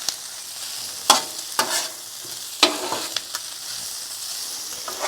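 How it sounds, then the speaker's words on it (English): Sausage stirred and fried on a Blackstone griddle: a steady sizzle with several sharp scraping and stirring clatters of a spatula, close by and fairly loud, no talking. "We'll mix the sausage up."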